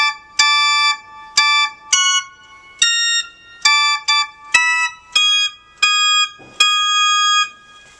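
Sustained organ pipe tones during tuning sound in a series of about nine separate bursts, each a bright harmonic chord held briefly then cut off, slightly flat, loud and close.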